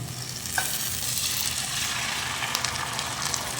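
Onion and tomato paste sizzles and crackles in a hot pan, with occasional stirring scrapes; steady frying noise close up, no talking.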